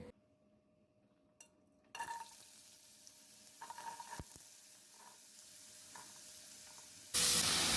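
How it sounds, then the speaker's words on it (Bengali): Cut potato pieces fry in oil on a low flame, giving a faint, steady sizzle with occasional soft stirring scrapes, followed by a sudden louder hiss at the end. "লো ফ্লেমে ফ্রাই করে নিচ্ছি"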